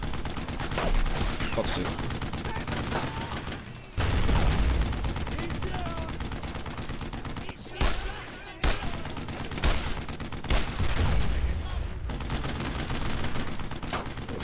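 Heavy WWII gunfire crackles nonstop in Brothers in Arms: Road to Hill 30, dense overlapping rifle and machine-gun shots with louder bursts, while a player curses briefly over the din.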